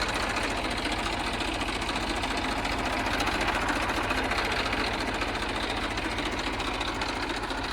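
An Eicher 333 tractor, a used one-owner machine in company condition, idles steadily with an even, continuous knocking engine rumble at close range, no voices over it.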